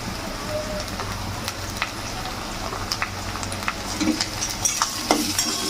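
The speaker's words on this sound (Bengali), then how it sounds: "রসুনটা পেঁয়াজের সঙ্গে ভালো করে ভেজে নেব।" Garlic frying with reddened onions for a mutton gravy, stirred in the pan. A continuous close sizzle carries brief scraping clicks of stirring that grow busier near the end.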